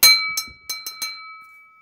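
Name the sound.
empty glass cup ringing like a bell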